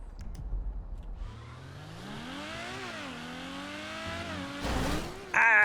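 In a GTA roleplay game, a car engine rises and falls in pitch as it revs and shifts, ending in a sharp burst that could be a skid or impact, with no talk over it.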